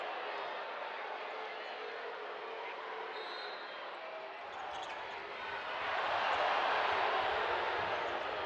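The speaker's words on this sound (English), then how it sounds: "Crowd not liking the contact." A basketball arena crowd at an Oregon State vs. Eastern Washington NCAA women's first-round game murmurs steadily, then swells into a louder, disapproving roar over the final few seconds in reaction to contact on the court.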